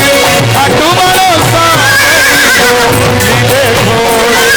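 A horse neigh sound effect rises in whinnying swoops within a Khatu Shyam devotional bhajan, mixed loudly with continuous music and singing.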